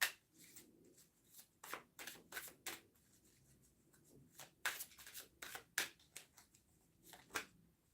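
Tarot cards shuffled and pulled, with quiet, close riffling and flicking in irregular bursts and soft taps between them, no voice.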